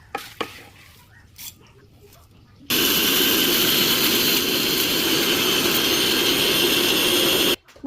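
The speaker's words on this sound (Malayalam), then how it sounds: "ഞാനത് മിക്സിയിലിട്ട് ചെറിയ ജാറിലിട്ടുണ്ട് പൊടി നന്നായി പൊടിച്ചെടുക്കാനാണ്" A mixer grinder's small jar grinds dry-roasted garam masala spices such as fennel, cloves and cardamom, starting abruptly with a loud, steady whirring roar that runs for about five seconds and then stops, after a few faint kitchen clinks.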